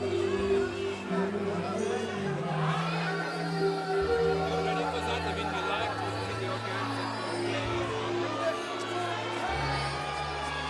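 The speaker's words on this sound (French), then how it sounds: "La foule qui crie son nom." A crowd at the Cannes Film Festival calling out Gary Oldman's name, a dense steady roar of many voices with chatter and occasional whoops, loud and continuous throughout, with a low music bed running beneath.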